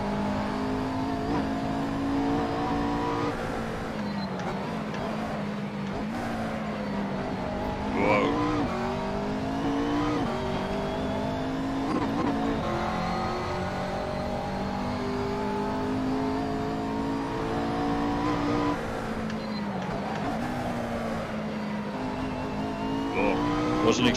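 Race car engines in the video game Assetto Corsa drone and rev steadily, rising and falling with gear changes and occasional tire squeal, a continuous, moderately loud mix with no talk.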